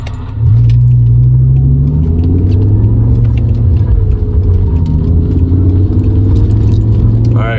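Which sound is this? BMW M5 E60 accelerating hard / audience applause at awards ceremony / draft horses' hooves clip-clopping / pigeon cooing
BMW M5 E60 accelerating hard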